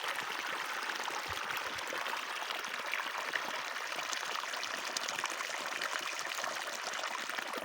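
Irrigation water gushes steadily into a channel of a sesame field on damp soil, a continuous broadband rush and trickle that stays even and close throughout with no voices.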